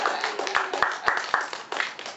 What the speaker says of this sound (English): How about a nice round of applause for Atka?